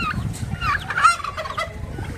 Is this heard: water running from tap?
no